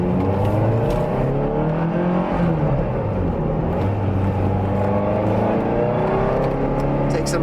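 A 1990s Lotus Esprit V8 with a manual transmission being driven, its engine droning and rising steadily from inside the car, loud and continuous with no voices over it.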